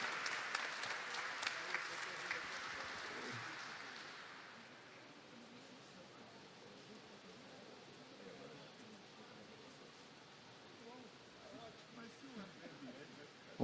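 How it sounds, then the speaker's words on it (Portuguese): An audience at a formal ceremony claps for two performers, dense applause for about four seconds that fades into quieter room murmur and rustling. "Então, um aplauso ao talento dos dois."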